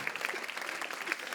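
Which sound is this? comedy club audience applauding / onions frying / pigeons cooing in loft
comedy club audience applauding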